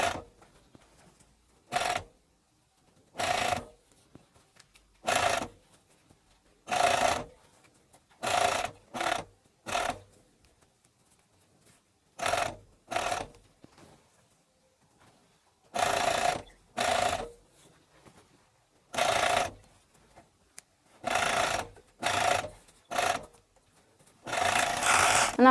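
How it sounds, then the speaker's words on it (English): A coverstitch machine topstitches a dog's t-shirt while ribbon is pulled through, running in short loud bursts of rapid stitching separated by quiet pauses, close and alone. "Again, I'm pulling the ribbon slightly as I sew."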